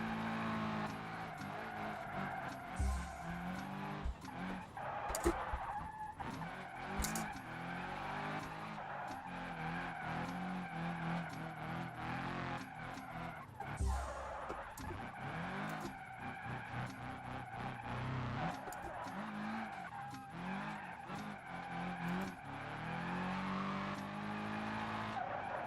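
Tires squeal as a car skids through a handbrake turn in a racing video game, with a long continuous screech and engine drone that swell and ease as the brake is let off, loud and alone.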